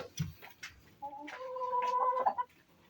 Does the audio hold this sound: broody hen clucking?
yes